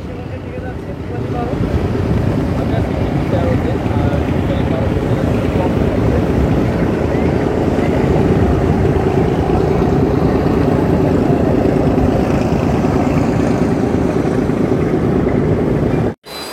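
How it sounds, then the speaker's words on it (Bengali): Diesel engine of the MV Tipu-13 passenger launch, running at 781 rpm on a river trip between Dhaka and Ilisha, gives a loud, steady, close droning rumble that holds unbroken for the whole stretch before cutting off abruptly at the end. "এই মুহূর্তে টিপু 13 লঞ্চের উইচে ইঞ্জিন 781 আরপিএমে চলতেছে"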